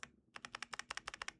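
A computer keyboard fitted with Hacker Mint keycaps clacks as roughly a dozen keys are pressed in quick, even succession, each press a crisp, close click with no voice.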